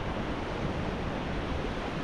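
Large sea waves at Tagantanan shore, a dense continuous roar of surf with wind rushing over the microphone, loud and unbroken, no voices.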